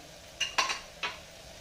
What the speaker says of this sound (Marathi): थोडंसं परतून घेते